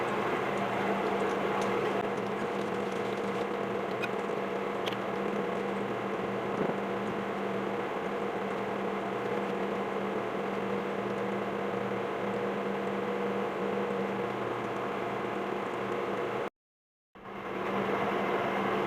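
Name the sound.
kitchen fan running while salmon patties cook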